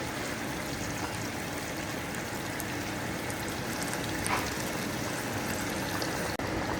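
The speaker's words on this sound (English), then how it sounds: "Ready to add some water in there, hot water." Hot water pours steadily into a pot of beef rib biryani in a continuous hissing stream, even and unbroken for several seconds.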